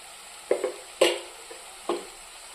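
A spoon stirring onions and cashews frying with turmeric in a pan, giving three or four short distinct scrapes and clacks over a faint sizzle, with no voices.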